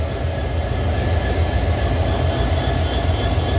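A WDP-4 diesel locomotive hauling the Runicha Express idles at a station, giving a dense, steady engine drone with a low throb and a faint high whine that runs unbroken throughout, with no voices.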